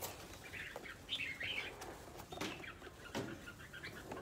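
Birds give faint, scattered chirps with soft bursts of wing flapping, quiet and intermittent over a low background hiss.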